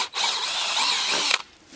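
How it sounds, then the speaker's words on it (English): A power drill bores a pilot hole into a wood block, one continuous high whirring burst of under two seconds that cuts off abruptly, loud and close. "Drill a pilot hole."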